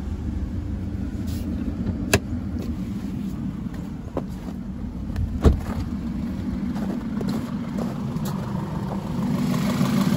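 An engine runs stationary while still not up to operating temperature, a steady low rumble close by with a few sharp clicks and knocks over it.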